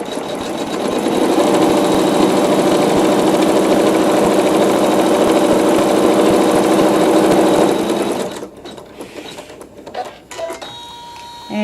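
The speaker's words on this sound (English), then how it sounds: "with the neutral thread in the needle I am sewing the seam." A sewing machine runs steadily and loudly for about eight seconds, stitching a fabric seam with neutral thread, then stops, leaving brief faint handling noises.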